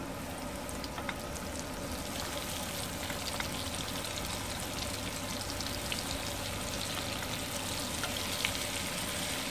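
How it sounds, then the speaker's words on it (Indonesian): Shrimp frying in hot oil in a home kitchen, giving a steady dense sizzle with faint crackles and pops throughout, close and continuous without talk. "Dan ini untuk menggoreng udang ya teman-teman, karena harus dipisah"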